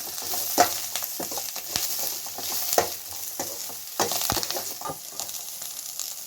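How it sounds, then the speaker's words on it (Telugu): Onions fry in a pan for a drumstick, brinjal and potato sambar, giving a soft continuous sizzle broken by irregular clicks and scrapes of stirring, fairly quiet and close, without speech. "ఆనియన్ కొంచెం ఫ్రై అయిందండి"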